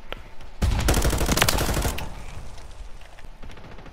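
M13C rifle firing in a video game, a dense close burst of rapid shots lasting over a second, then a decaying tail with a few lighter clicks.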